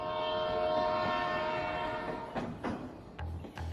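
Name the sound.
train sound effect with horn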